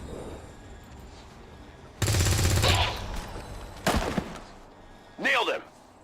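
XCOM 2 gunfire: a loud, dense burst of automatic fire lasting about a second, then a single heavy shot and a sharper report, with game voices speaking between the shots.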